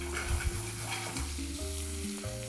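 Pork loin browning in hot fat in a pan gives a steady, close sizzle and crackle throughout, with a few louder pops near the start.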